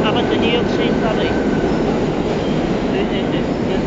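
A B subway train pulls into Grand St station in New York City, a loud continuous rumble of wheels and cars rolling close by with faint squeals, filling the whole stretch without pause.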